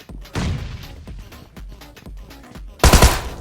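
Bursts of M249 machine gun fire in the BGMI PUBG Mobile battle royale game, scattered shots and low thumps through most of the stretch, then a loud, dense burst near the end, with no talk.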